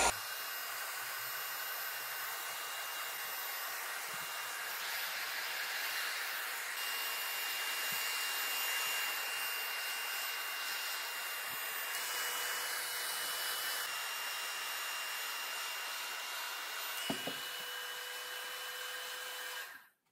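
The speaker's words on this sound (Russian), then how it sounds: "Мы сейчас вот таким вот образом при помощи фена будем разогревать." A hair dryer blows hot air over oiled wood, a steady loud whooshing hiss holding for about twenty seconds before cutting off abruptly at the end.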